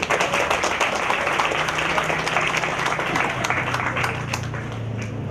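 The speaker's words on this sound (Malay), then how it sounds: "Kita beri tepukan kepada mereka." Continuous clapping and applause from a crowd at an art space inauguration in Seksyen 2, Shah Alam, honoring university students; dense, steady handclaps that gradually thin toward the end.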